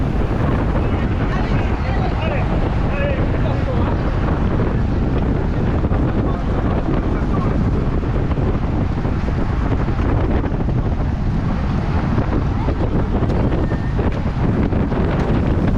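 Strong headwind buffets the microphone during a UFOLEP road cycling race at Maulde, a loud, constant broadband roar that fills the whole stretch with no letup.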